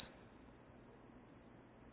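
A steady 5000 Hz test tone rings out as a pure, piercing whistle, constant and loud, with nothing else beneath it.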